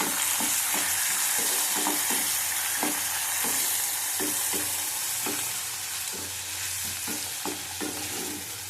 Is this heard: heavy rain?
no